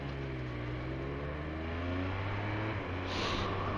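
A Triumph Speed Triple 1200 RS riding on the road, its engine holding a steady droning hum under heavy wind rush. A slight rise in revs comes near the end, and there is no talk.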